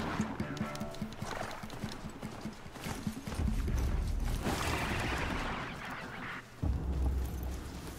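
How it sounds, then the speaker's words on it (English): A horse trots and gallops in Horizon Zero Dawn, hooves clip-clopping with a whinny, then a louder rush of movement and low rumble as the ride picks up, all close and continuous. "Alright, let's get on back on the horse."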